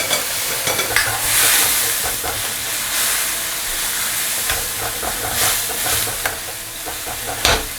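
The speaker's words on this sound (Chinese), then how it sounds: "好，加入清水， 接着下入我们的豆腐，" Tofu dropped into a pan of water, a continuous hissing, bubbling wash with scattered clatters and splashes, close and fairly loud.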